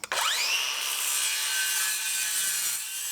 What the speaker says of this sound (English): The beauty of working with aluminum is that it is super easy to cut, even with the regular circular saw made for wood.